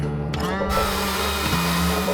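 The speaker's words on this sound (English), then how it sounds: "getting the chainsaw out" A loud engine snarls and revs close by, a harsh buzzing motor like a chainsaw starting up.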